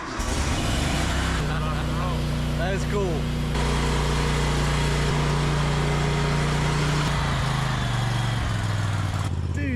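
A remote-controlled lawn mower's small engine runs with a steady, loud drone and changing pitch near the mower, while people talk over it.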